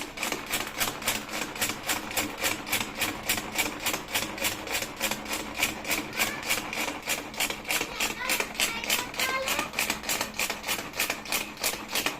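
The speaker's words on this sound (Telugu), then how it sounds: "సో నేను ది వెజిటేబుల్ కటర్తో చేద్దామని ట్రై చేస్తున్నాను" A hand-cranked vegetable chopper churns cream with water, turning over and over, making rapid, regular clicking and whirring beats that stay steady and close for the whole stretch.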